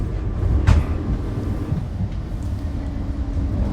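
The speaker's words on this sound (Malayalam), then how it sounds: "അങ്ങനെ നമ്മൾ ട്രെയിന് കായംകുളം സ്റ്റേഷനിൽ കൂടെ കടന്നു പോവുകയാണ്." The Rajdhani Express runs through Kayamkulam station, a continuous loud low rumble heard from inside the train with one sharp knock early on.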